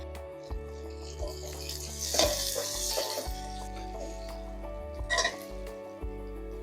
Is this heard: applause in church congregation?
no